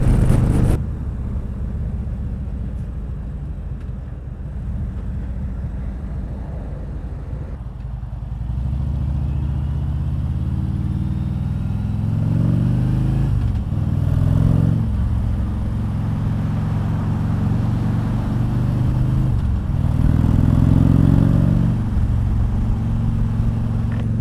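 A Harley motorcycle being ridden in stop-and-go city traffic gives a low, steady engine rumble that swells and eases with speed, loud and close, with road and wind noise throughout.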